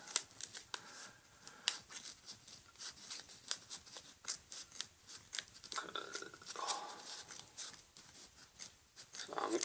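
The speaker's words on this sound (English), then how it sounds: "I'm just trimming it just a slight bit because it doesn't want to go on." Small scissors trim a mini top hat piece in quick, quiet snips and rustles, close up, with faint handling sounds between cuts.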